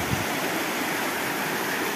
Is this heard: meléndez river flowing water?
yes